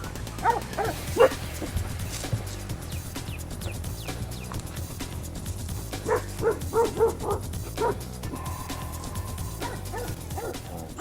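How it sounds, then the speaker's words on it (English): Hunting dogs bay and yip in scattered bursts while working wild hogs during a Russian boar hunt, the barking moderately distant over steady outdoor background noise. "Right now, I want them dogs to work the hogs a little bit."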